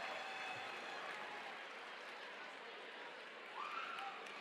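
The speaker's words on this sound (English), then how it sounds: "Another round of applause for these two." Audience applause for a dance couple at a Dancing with the Spartanburg Stars event, a dense, steady wash of clapping with some cheering from the crowd.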